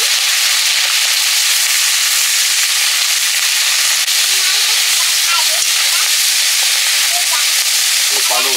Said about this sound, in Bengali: এবারে চুনো মাছগুলো ভেজে নিচ্ছি